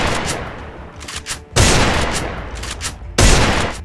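Gunfire in the mobile shooter Free Fire: a few lighter shots early, then two loud rapid bursts that each start abruptly and ring on, with no talk over them.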